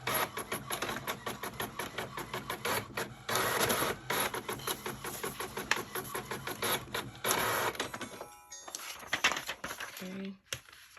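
A home printer runs through planner dashboard inserts with a rapid rhythmic mechanical chatter of head passes and paper feed, fairly close, ending with a few whirring clicks as the page ejects.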